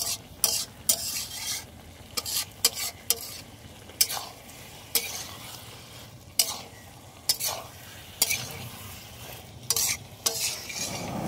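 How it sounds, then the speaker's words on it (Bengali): Potato chunks sauté in a pan of oil, stirred again and again with a utensil, sharp scrapes and clacks popping up irregularly over a steady close sizzle, no one speaking. "আলুগুলোকে একটু ভালো করে কষিয়ে নাও"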